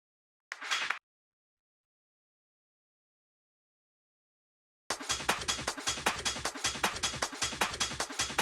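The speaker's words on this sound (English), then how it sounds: "So this one, which is like just a nice shaker," A processed shaker sample for a hard techno track: a brief burst of noisy shake, a long silence, then a steady pulsing stream of bright, gritty shaker hits repeating in a tight rhythm.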